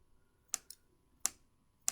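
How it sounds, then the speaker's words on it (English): Kitchen scissors snip through sliced chorizo, sharp crisp clicks in a quiet room: two quick cuts, a pause, then two more, close and isolated. "I'm just going to use the scissors and I'm going to snip it"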